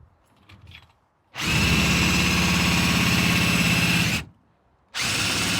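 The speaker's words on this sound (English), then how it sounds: "this worm drive up here with a cordless drill" A cordless drill drives the worm gear of a Neo-Dyne power motorcycle lift to lower it, whining loudly and steadily for about three seconds, stopping briefly, then starting again.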